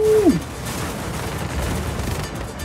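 Just Cause 4 (2018) gameplay gunfire rattles in quick, dense bursts over a low rumble, with a short voice at the start.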